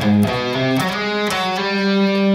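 An overdriven electric guitar plays a short lick of bent, sustained notes in the style of a rock guitarist's part in a song, loud and alone with a ringing distorted tone.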